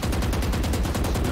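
Rapid automatic gunfire in a first-person shooter video game, a dense burst of evenly spaced shots filling the whole moment, loud and close with no talking over it.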